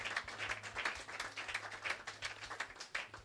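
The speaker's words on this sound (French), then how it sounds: "je disais qu'on acclame Jésus" A church congregation applauds with steady, quiet clapping that continues throughout, heard from a distance and without voices on top.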